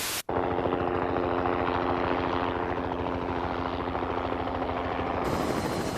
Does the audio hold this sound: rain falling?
no